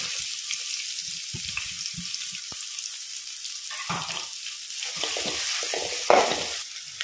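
Two medium onions frying in oil that was used earlier for frying onions, for a catering-style mutton gravy: a steady broadband sizzle runs throughout, with occasional stirring scrapes and a sharper clatter near the end.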